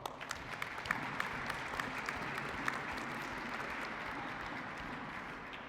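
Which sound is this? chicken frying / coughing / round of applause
round of applause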